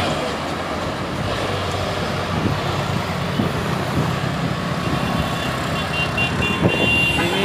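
A Mitsubishi Fuso Canter truck labours up a steep hill, producing a continuous diesel engine drone and road rumble that fill the scene. A voice is heard briefly.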